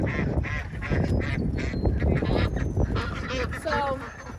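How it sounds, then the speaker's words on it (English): Frightened ducks in a garden pen quack and honk loudly and continuously, overlapping one another, with people talking underneath. "Ducks are scared to death."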